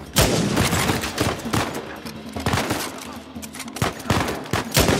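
Video game gunfire from rival snipers in Uncharted 4, dense rapid volleys of shots and cracks in close succession, loud and continuous throughout.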